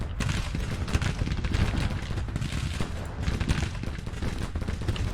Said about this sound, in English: Jesus Christ, they're just being shot at